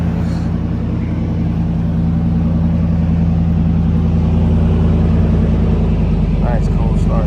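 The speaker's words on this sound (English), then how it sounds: "Nice cold start." A V8 engine idles loud and close right after a cold start, with a dense low rumble holding steady throughout and a brief faint voice near the end.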